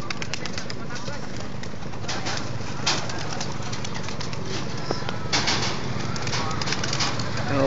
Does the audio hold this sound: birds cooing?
yes